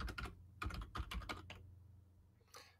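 Fingers type on a computer keyboard up close in quick, uneven bursts of key clicks. A short pause comes before a final few taps.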